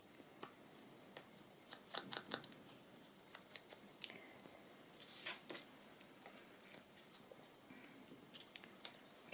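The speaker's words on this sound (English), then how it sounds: "I'll just trim that little tiny bit off there." Scissors trim a small piece of paper for a craft folio: a series of short, faint, close snips and rustles in an otherwise quiet room, scattered irregularly with brief gaps between cuts.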